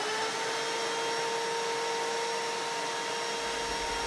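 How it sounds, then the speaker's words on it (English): A Harbor Freight Bauer 6-gallon shop vacuum with a Bauer dust cyclone drones steadily throughout, a broadband whoosh with a couple of steady whining tones, no voices present. "vacuum cleaner and the air compressor and everything going on"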